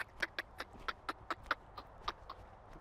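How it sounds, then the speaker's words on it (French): A horse's hooves clip-clop in a quick, irregular series of about a dozen sharp steps at close range while the horse moves its hindquarters during a suppling exercise. "mon cheval écarte son postérieur. Il fait 2 pas, 3 pas, j'arrête."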